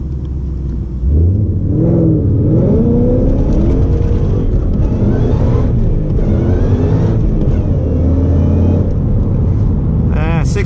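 A supercharged Mustang 5.0 accelerates hard on a 0-60 run with traction control off. Its deep engine rumble swells and climbs in pitch through the gears, loud and close, continuing unbroken after a quieter idle at the start.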